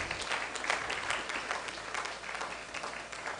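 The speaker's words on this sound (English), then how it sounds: "Please keep clapping as they come forward." An audience at a book launch claps steadily and fairly quietly, a continuous patter of many hands with no voices over it.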